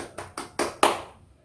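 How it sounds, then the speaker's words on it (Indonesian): Four quick hand claps in an accelerating, building sequence, fairly close in a classroom, the last one loudest and ringing briefly before fading. "tepuk tangan untuk kita semua"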